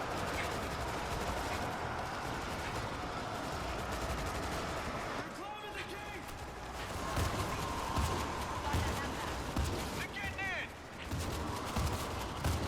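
An automatic turret fires in World War Z, a steady dense stream of rapid gunfire rattling throughout with brief electronic chirps, while someone talks over it.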